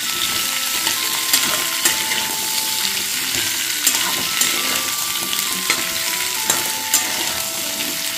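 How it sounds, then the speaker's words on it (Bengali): Food frying steadily in a pan for a vegetarian pumpkin, potato and chana dal dish, a continuous bright sizzle with occasional stirring scrapes and clinks, loud and close with no talking. "এটা মোটামুটি 2-3 মিনিট মতো ভালোভাবে ফ্রাই করে নিতে হবে।"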